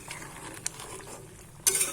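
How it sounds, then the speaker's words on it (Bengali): Fish roe fritters in curry being stirred in a pan, soft scraping and a light clink over a low sizzle, with a louder burst of hissing near the end. "ভালো করে নেড়ে দেবো।"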